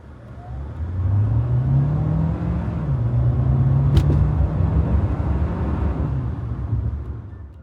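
A 2027 Kia Sportage SX with a 1.6-litre turbo hybrid engine accelerates hard, giving a steady, close engine hum and whir whose pitch climbs, dips briefly at a gear change, then climbs again. No one speaks.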